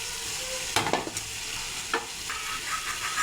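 Fried potatoes stirred into a spiced masala for a fish-head curry, soft scraping stirs and a few sharp clacks of a spoon against the pan over a faint steady sizzle.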